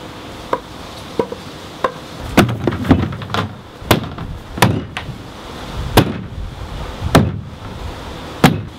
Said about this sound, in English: Oh, I just need to hammer there.